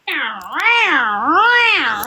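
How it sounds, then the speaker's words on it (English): A domestic cat at a window gives a loud, close, drawn-out meow that rises and falls twice in a wavering, almost yowling contour, filling the whole moment. "Yes, that was a real cat."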